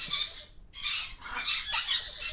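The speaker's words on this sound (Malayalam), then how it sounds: "ഇത് നമ്മുടെ ബ്ലൂ മോങ്കിൻ്റെ കുട്ടിയാണ്" Blue monk parakeet chick giving harsh, raspy squawks in near-continuous bursts, close and fairly loud, with a brief pause partway through.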